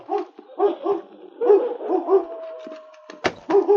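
A big gray wolf named Butch growls and snarls in a woodshed in a radio drama, giving a series of close, throaty bursts with whimpering yips and a sharp sound near the end.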